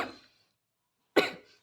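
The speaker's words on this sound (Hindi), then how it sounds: "खाँसी आ गई मुझे यहाँ पे" A woman coughs once sharply and close to the microphone, following a brief earlier burst of throat noise, with silence in between.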